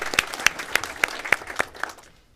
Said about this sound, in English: round of applause though.